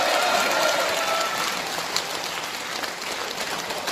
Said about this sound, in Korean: 대한애국당 조원진 대표님께 큰 박수 부탁드리겠습니다